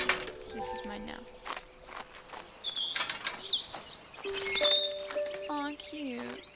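Small bird in the video game Botany Manor chirping in short, bright tweets over quiet ambient game music and light footsteps, with faint whistled notes scattered across several seconds.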